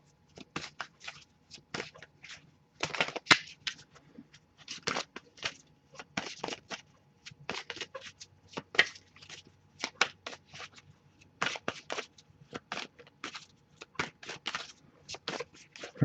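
Tarot cards being shuffled in quick riffling bursts with short pauses between, crisp and close, continuing steadily throughout.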